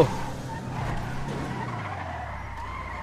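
A fast car in GTA RP roars and skids, its engine droning low beneath a drawn-out tire squeal that fades over a few seconds, fairly close and with no talking.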